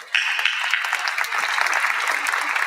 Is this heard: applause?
yes